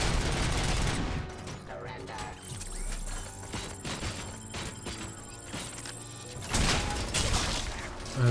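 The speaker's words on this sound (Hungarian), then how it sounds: "Mert itt is lőnek." Gunfire from the video game Robocop Rogue City, dense bursts of shots and impacts layered over game music and effects, continuous and fairly loud throughout.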